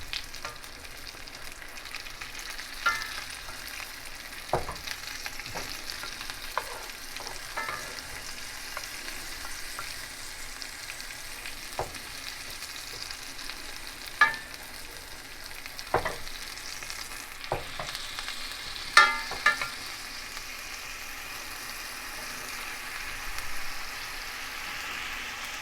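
Honey garlic sauce sizzles in a pan while being spooned over salmon fillets, a quiet continuous frying hiss broken by scattered clicks and scrapes of the spoon against the pan.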